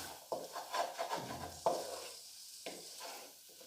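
Chopped green chilli stirred into mutton masala in a pan, rhythmic scraping strokes of a spoon with a soft sizzle, close and moderately quiet, then slowing to a few separate scrapes.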